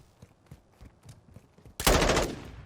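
Gunfire from a first-person shooter esports match: a few faint, scattered shots give way to a sudden loud, dense burst of automatic fire that rings out and slowly decays.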